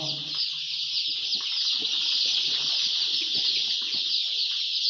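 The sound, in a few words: chickens and chicks at a poultry farm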